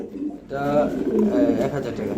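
Pigeons, including Sirazi birds, cooing at a pigeon market in soft, rolling, repeated calls close by, with people's voices in the background.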